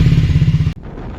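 Motorcycle ridden on a road trip, its engine giving a loud, steady, throbbing rumble that cuts off abruptly and drops to a quieter, rougher drone.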